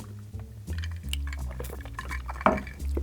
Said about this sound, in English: grab yourself a spoon, just give yourself a little bit of a mix